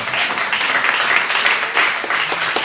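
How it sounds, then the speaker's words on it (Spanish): A church congregation breaks into steady applause at an evening service, a dense wash of many hands clapping at close range, holding an even level throughout. "¿Cuánto le pueden dar un aplauso al Señor?"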